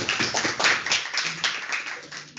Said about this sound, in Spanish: Un aplauso para los muchachos.